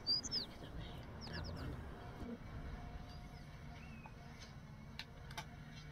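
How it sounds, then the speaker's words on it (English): Little chirps and tweets from a bird in the video game Little Kitty, Big City arrive in short clusters early and again later, fairly faint above a constant low ambient hum. "That bird can see me"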